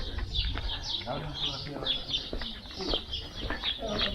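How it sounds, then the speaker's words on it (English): Birds chirp at Vikos Gorge in Greece, repeated high calls at a steady rhythm over a murky outdoor background, with someone speaking at the same time. "the birds chirping."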